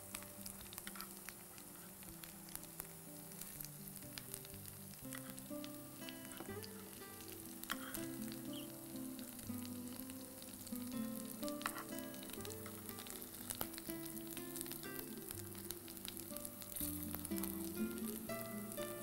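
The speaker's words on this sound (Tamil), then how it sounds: "இப்போ நம்மளுடைய கட்லெட் வந்து நல்ல ஒரு பக்கம் கீழ்ப்பக்கம் வெந்துருச்சு" A flipped cutlet fries on an oiled dosa griddle, sizzling steadily and close for the whole stretch, with soft background music tones and no talking.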